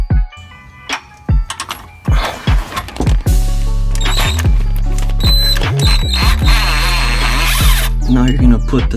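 Power tool running down bolts on a solid differential brace for an Infiniti Q50/Q60, heard as loud, repeated close-up bursts of whirring and ratcheting that grow longer and more continuous, then merge into a steady run.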